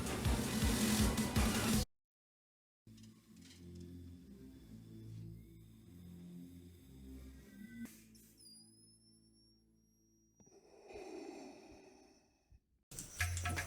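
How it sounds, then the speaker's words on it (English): Darth Vader electronic helmet toy playing its deep mechanical breathing, slow low-pitched inhale and exhale cycles, close and moderately loud, with a synthetic whistle sweep near the end and short bursts of noise at the start and finish. "his deep voice and heavy breathing"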